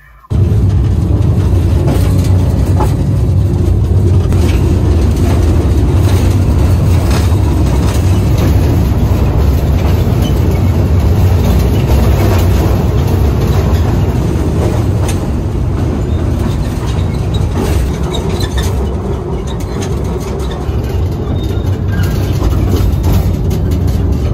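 A mine train rumbles loudly and continuously through an underground silver mine tunnel in Norway, a heavy low roar with rattling carriages echoing in the enclosed space.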